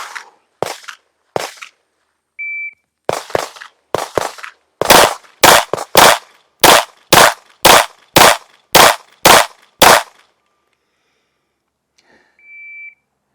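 A Derya DY9 pistol fires a rapid string of gunshots at an outdoor range, sharp loud cracks in quick uneven bursts, then a steady rhythm of evenly spaced shots, with electronic beeps from a shot timer before and after.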